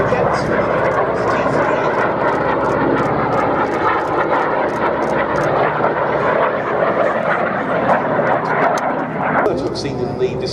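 A Jet Provost T3 jet flying at the Duxford Air Festival air show, heard as a loud, steady engine roar across the whole stretch, with a voice talking over it.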